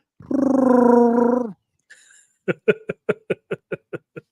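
A person imitates Chewbacca's roar with one sustained, throaty, growling cry of about a second, then a string of about nine short, evenly spaced bursts.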